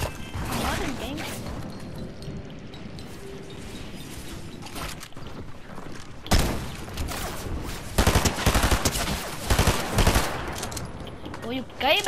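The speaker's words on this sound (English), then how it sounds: "Do you have to shoot me like that?" Gunfire in the Fortnite video game: scattered shots and rapid bursts, quieter early and then loud, close volleys in the second half with sharp impacts between them.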